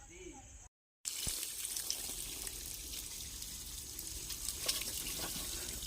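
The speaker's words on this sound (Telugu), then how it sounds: "బా నీళ్ళు పట్టాలి తప్పదుగా" Tap water runs steadily, filling a container after a motor-fed pipe supply, a continuous broadband rush that follows a brief silence near the start, with a few faint clinks.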